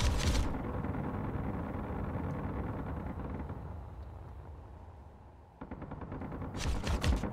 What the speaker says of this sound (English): Yep, I'm being shot at from all over.